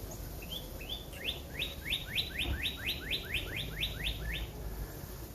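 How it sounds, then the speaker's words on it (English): A bird sings a rapid series of about a dozen bright, repeated chirps in a steady rhythm, moderately close, with faint background noise and no talking. "Birds is chirping."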